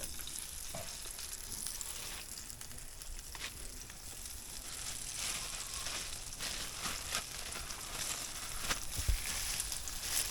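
Halibut fries in a frying pan, cooked outdoors at a tent in a park, giving a steady, dense crackling sizzle that continues evenly throughout, close up, with no voices.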